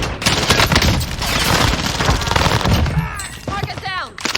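Rapid automatic gunfire and overlapping shots rattle through a first-person shooter video game, dense and loud, with players talking over the shooting.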